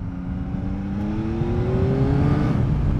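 A 2021 Yamaha MT-09 motorcycle accelerates hard through the mid-range, its engine note climbing steadily and loudly over three seconds with no talk.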